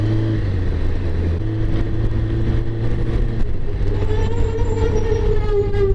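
A truck towing a trailer with faulty brakes, its engine rumbling steadily while a thin high squeal from the trailer brakes rises and wavers over the drone, close and continuous.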